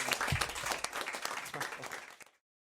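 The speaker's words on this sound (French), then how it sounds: "Et on peut l'applaudir" Studio audience applauding after a joke on a French comedy talk show, a dense burst of clapping that starts loud, tapers and stops abruptly.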